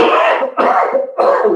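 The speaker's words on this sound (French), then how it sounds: "J'espère que c'est juste une toux légère ou passagère" Three harsh, loud coughs in quick succession from a person close by, each a short rough burst with brief gaps between them.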